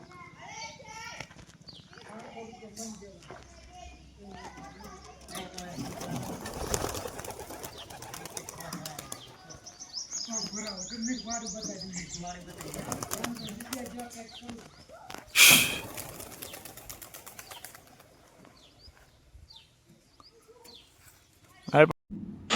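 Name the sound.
pigeons cooing and flapping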